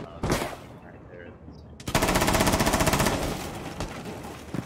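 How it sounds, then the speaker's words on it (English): Rapid automatic gunfire in the Rainbow Six Siege video game, with an earlier single shot and then a dense, loud burst of close shots, tailing into echoing reports as faint voices talk underneath. "Bullets right there."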